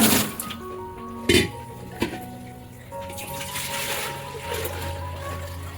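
Metal plates, pots and a pressure cooker clink and clatter during dishwashing at home. Two sharp knocks sound early, and water rushes faintly underneath.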